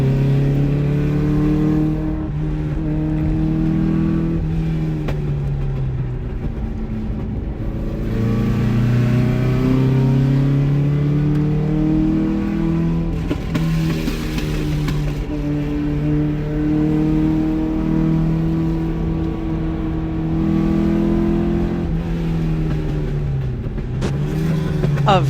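Pre-war vintage race cars, including a 1939 Mercury Sprint and a Fiat, accelerate through Westinghouse turn at the Pittsburgh Vintage Grand Prix, engines droning and shifting pitch continuously as they pass, loud and steady throughout.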